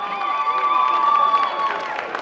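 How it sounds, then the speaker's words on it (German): A crowd at a long outdoor table event in Cologne claps and cheers after a singer's performance, a lively mix of applause and cheers beneath a sustained tonal sound, with a voice talking over it. "Super Auftritt und das ist sein Applaus von Köln"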